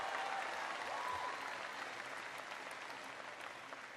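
A crowd in a hall at a political speech on college affordability in Buffalo bursts into sustained applause, a thick, even roar of clapping that stays strong throughout.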